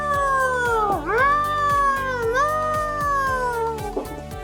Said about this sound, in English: Oh, come on, kitty cat.